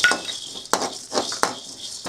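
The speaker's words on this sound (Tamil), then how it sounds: "மிளகு பாதி அளவுக்கு வறுத்ததுக்கப்புறம் சோம்பு போடுறேன்" Fennel seeds tossed into a pan where black pepper is dry-roasting give a few light clinks and scrapes of a utensil against metal, close and quiet, with no talking.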